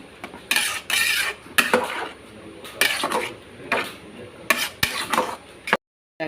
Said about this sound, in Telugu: మూడు స్పూన్లు నెయ్యి వేసుకుని కలుపుకున్నాం బాగా అన్నీ కలిపి మిక్స్ చేసాను